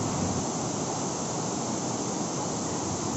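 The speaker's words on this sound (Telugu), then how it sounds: "ఈ వాటర్ నుంచి వచ్చే సౌండ్ అయితే చాలా అద్భుతంగా ఉంది" Rushing water pours at Tirathgarh waterfall near Jagdalpur, a steady, unbroken broadband roar of moderate, fairly distant loudness with no voices.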